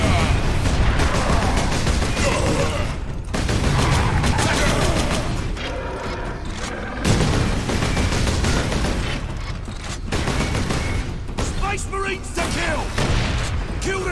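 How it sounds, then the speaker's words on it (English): Enemy missiles fire and explode during a Warhammer 40,000: Space Marine mini boss fight, a dense barrage of booms and gunfire rolling on throughout, loud and close, with a voice speaking over the combat. "Ooh, they have missiles."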